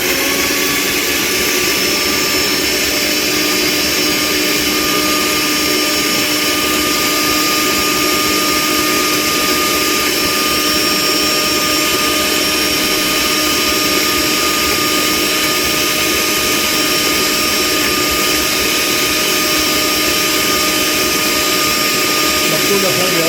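An electric grinder blends garlic for a red chilli chutney with a loud, continuous high-pitched whirring that runs unbroken for over twenty seconds at close range.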